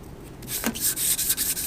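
Brief bursts of a sanding block scraping back and forth over a cured adhesive layer on concrete, close and moderately loud, with no voices.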